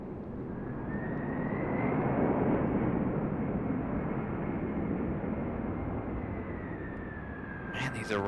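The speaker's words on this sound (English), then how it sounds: "here's back-to-back FedEx arrival" A FedEx jet arriving at Raleigh-Durham International Airport gives a steady, loud roaring rumble with a rising engine whine as it passes, sustained throughout the clip.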